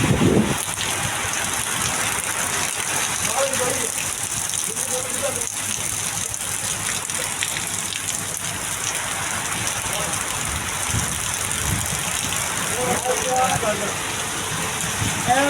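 Heavy rain pours down outdoors in a steady, dense hiss with splashing on surfaces, while people talk intermittently over the downpour.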